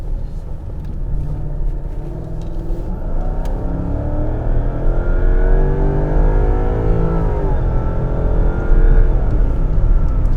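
Lexus LS 460 sedan accelerating hard, a loud sustained engine roar climbing steadily in pitch through the gears with deep rumble throughout, no talking.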